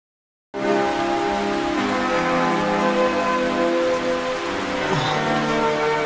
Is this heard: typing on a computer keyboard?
no